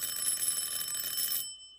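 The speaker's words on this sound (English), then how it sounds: "is that the doorbell I hear ringing?" A doorbell rings in a stage production, a sustained bright electric ring lasting about a second and a half before stopping abruptly, heard alone with no talk.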